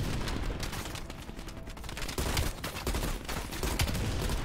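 Gunfire in Call of Duty: Black Ops Cold War, a regular firearm after a grenade launcher: close, loud bursts of shots come in rapid clusters over a busy battle background.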